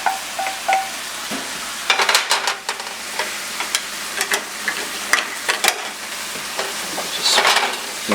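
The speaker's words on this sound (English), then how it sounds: "We're going to add our sauteed onions directly into the ground beef." Ground beef and sauteed onions sizzling in a pan while being stirred, with a steady fry hiss broken by repeated scraping and clattering strokes, close and fairly loud, without talk.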